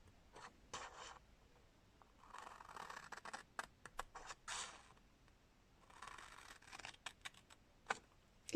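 Scissors or a blade cut lines into scrapbooking paper for a treat box, giving intermittent crisp snips and scratchy rasps in short bursts, close and fairly quiet, with no talking.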